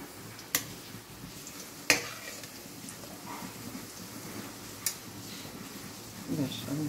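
Balushahi dough fries slowly in cold oil with a soft, quiet sizzle, broken by a few sharp clicks and light stirring taps, and muffled talk underneath.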